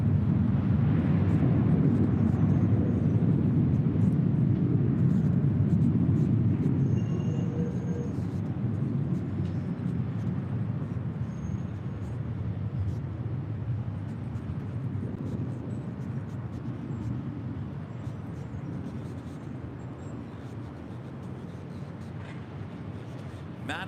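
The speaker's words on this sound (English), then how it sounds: "This is Sun Country Airlines 425 coming in from Minneapolis, St. Paul," A Sun Country Airlines Boeing 737-800 arrives at LAX, its engines making a broad, loud jet roar that slowly fades over about twenty seconds, heard from the airport grounds.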